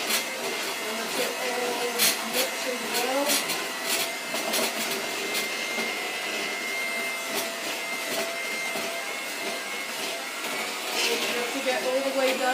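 An electric mixer runs at speed level 2 while mixing cake batter, giving a loud, steady motor whine with slight wavering as the bowl is worked, and a voice talks over it.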